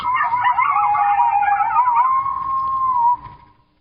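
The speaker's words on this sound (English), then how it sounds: "I think the most popular sound when people think of hearing coyotes, it's probably a group serenade, which is this." A Kentucky coyote pack gives a group serenade of overlapping yips and wavering howls. The calls are loud and steady, then taper into one long howl that fades out with no talk.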